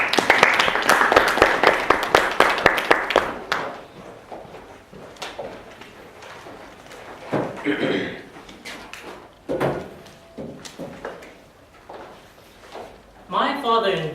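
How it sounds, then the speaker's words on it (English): Audience at a Toastmasters club meeting applauds a speaker for about three seconds, close and brisk, then fades to sparse sounds and intermittent talk. "Please give a thunderous applause for our very own Toastmaster"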